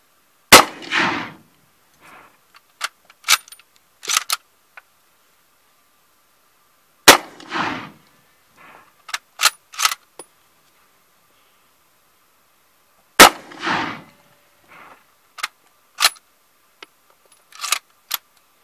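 A Mosin Nagant 91/30 rifle is fired outdoors at a berm: three sharp, loud reports spaced several seconds apart, each followed by a series of metallic clicks and clacks as the bolt is worked.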